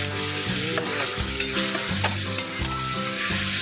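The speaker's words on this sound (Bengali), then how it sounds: "চিনিটা দিয়ে এবার একটু কষে নেবো।" Onions cooking with sugar and sour curd in a pan, a loud close sizzle broken by repeated scraping stirs in a quick rhythm, no voices.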